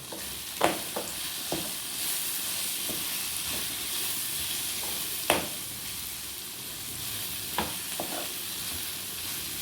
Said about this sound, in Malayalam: ഈ വെളുത്തുള്ളി, ഇഞ്ചി ചതച്ചത് ഇതായിലിടട്ടെ